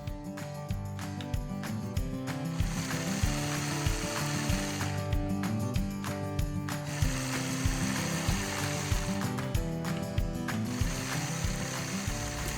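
A sewing machine stitches a 9-patch quilt block, its mechanism clattering in rapid rhythmic bursts with brief pauses between runs, close and steady throughout.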